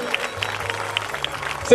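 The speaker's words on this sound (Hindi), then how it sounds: "उनकी तालियां बजती रहनी चाहिए जब तक हम यहाँ हैं" An audience at a school annual day claps, giving a sparse, moderately near patter of hands with overlapping speech from a voice on stage.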